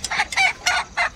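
Country hens, a free-range village breed that roosts in trees, cluck while a rooster crows in several short, sharp bursts, close and clear with no talk.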